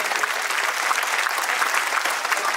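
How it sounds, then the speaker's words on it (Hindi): A school cultural fiesta audience applauds the children after their street play, a brief, uniform burst of many people clapping at steady volume. "जोरदार तालियां बच्चों के लिए जिन्होंने मेहनत किया है"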